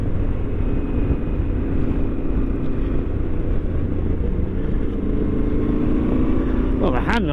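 A Yamaha Tenere T7 motorcycle in motion makes a constant loud engine rumble mixed with heavy wind buffeting, and a rider's voice sounds briefly near the end.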